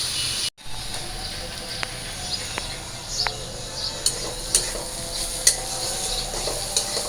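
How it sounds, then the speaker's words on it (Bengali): Onions fry in a pan with a steady sizzle, while a utensil stirs and scrapes against the metal in a few sharp clinks and taps close by. "তো এই যে আমার পেঁয়াজটা ভাজা হয়ে গেছে,"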